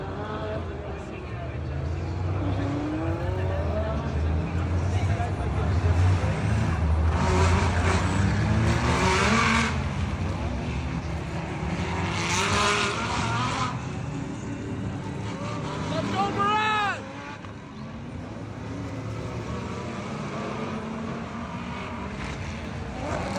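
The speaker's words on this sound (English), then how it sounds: "input a clip right here of that, the cars going by at Long Beach" Ford Mustang GT3 race cars sweep past at the Long Beach street circuit, engines roaring loud and continuous with rising and falling pitch as several cars go by in succession.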